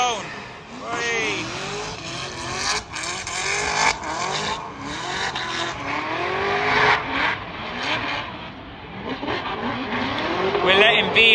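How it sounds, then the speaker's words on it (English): A BMW E92 drift car on a practice run, its engine revving and wailing in rising and falling sweeps with tyre squeal, loud and close, with people talking over it. "It's the BMW E92 coming in."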